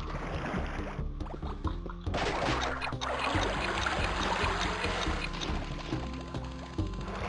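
Rising tide water in Crash Bandicoot: Warped, a dense rushing and splashing wash that swells loudly after a brief dip, layered over a steady low game rumble.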